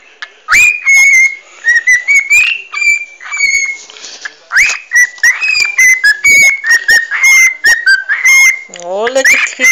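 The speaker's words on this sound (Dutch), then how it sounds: "Kan jij mooi fluiten?" A pet bird whistles loudly and close by, giving a busy run of sharp chirps, trills and rising whistles with short pauses between bursts.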